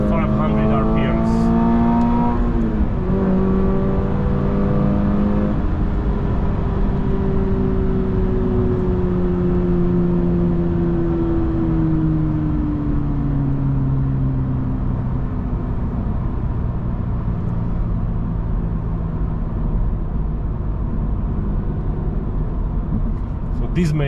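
A Toyota GR86's naturally aspirated engine revs up toward 7,500 RPM in a manual car, a loud, close, continuous climbing drone with a shift partway through, while someone talks over it.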